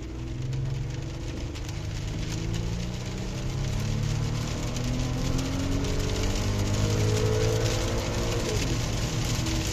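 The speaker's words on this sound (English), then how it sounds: "I'm just gonna go full throttle for a little bit." An Audi Q5 with a new injector and swapped ignition coils is held at full throttle, giving a loud, continuous engine roar whose pitch climbs and wavers, then drops back near the end.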